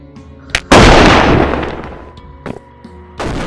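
A flare gun fires in the VR game Animal Company: one sharp loud burst that fades into a long hissing tail, followed by a few smaller pops and another burst near the end.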